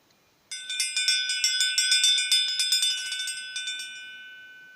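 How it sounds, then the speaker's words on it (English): A bright metallic meditation bell rings out clearly, struck repeatedly in quick succession, its shimmering tone sustaining and then decaying into quiet. "There it is, that's the bell."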